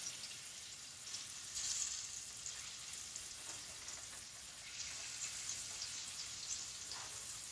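A tilapia fillet sizzles steadily in a hot pan, a continuous crackling hiss with small pops, heard alone and fairly quiet.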